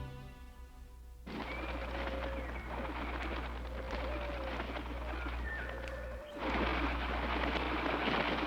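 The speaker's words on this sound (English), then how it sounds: "You always did love those pigeons." Pigeons cooing in a steady, close series of soft low calls, with repeated mechanical rattling and a constant low hum underneath.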